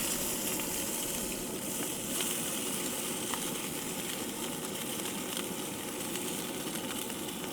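Lamb ends searing in a hot pan outdoors, giving a steady, loud, dense sizzle that stays constant throughout with a few faint clicks, no voice over it.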